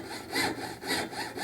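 A jeweler's saw cuts through unannealed gold wire for an earring hook ring, with rapid back-and-forth rasping strokes in an even rhythm, close and clear, and no voices.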